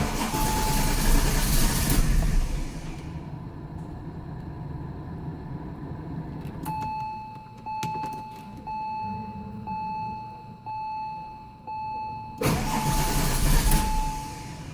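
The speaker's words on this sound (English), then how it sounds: "first we're going to turn the engine over a few times to circulate the oil" A Porsche 911 Turbo 996 engine is cranked over during an oil change, giving two loud bursts of starter churning at the start and end, with a thin steady whine and light clicks in the quieter stretch between.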